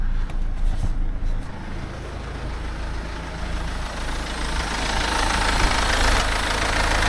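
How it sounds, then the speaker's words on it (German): A Mercedes S204 C-Class with an OM651 diesel engine, fitted with a new timing chain, idles steadily with a dense rumbling clatter, heard up close and alone, slightly rising in loudness toward the end. "Und der Motor läuft sehr gut. Schüttelt sich immer noch ein bisschen, aber das würde ich sagen, ist völlig normal für den Diesel."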